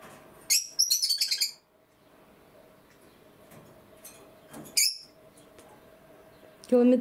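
Bursts of shrill, rapid budgie chirps come in short clusters with quiet pauses between, fairly close, ending in a lower squawk.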